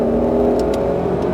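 A Mustang Shelby GT500 accelerating hard on a race track, heard as a loud, steady engine roar with a sustained whirring drone, close and continuous.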